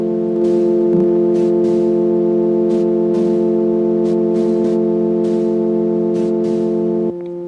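Steady, layered synth drones from a 2002 MicroKorg hold a sustained chord throughout, with soft airy textures pulsing on top before the sound thins near the end.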